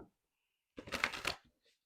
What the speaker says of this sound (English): I always have to side shuffle them because I can't do it the other way.